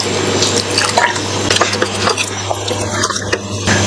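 About a liter of water pours into a cooking pot of kili parotta ingredients, a close, steady splashing stream with a low hum underneath and no talking.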